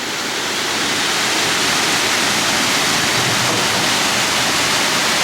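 Loud, steady rush of water pouring through a canal lock held back by wooden gates and levers, a continuous broadband roar close by with no pauses and no voices.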